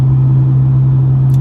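Subaru STi with the muffler and resonator removed, a loud, close, steady low exhaust drone as the car passes by, short and continuous with no voices.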